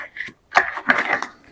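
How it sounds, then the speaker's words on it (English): Tarot cards get one quick shuffle, a few short papery riffles and slaps, close and fairly quiet with brief gaps between bursts. "I'm just going to do one quick shuffle like this"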